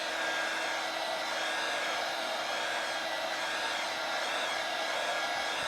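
A heat gun blows steadily and loudly over wet acrylic pour paint to raise silicone cells, a continuous close-up whooshing roar with no other sounds.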